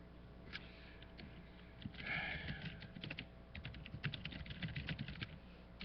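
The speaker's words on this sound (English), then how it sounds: "And I'm typing the questions." Quick clattering keystrokes on a computer keyboard, a faint, uneven run of taps that grows busier in the second half, with a brief sniff-like breath, no talk.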